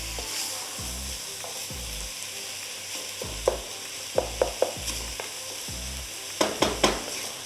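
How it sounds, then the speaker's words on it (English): Peppers sizzle in a pan on high heat for a vegan corn chowder, a constant hiss broken by repeated sharp spoon clacks and stirring over a low musical backing. "Pepper, this is still sizzling away."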